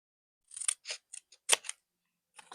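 Scissors snip through paper for a junk journal page in several short, crisp cuts spaced irregularly, close and fairly quiet, with a final cut after a brief pause.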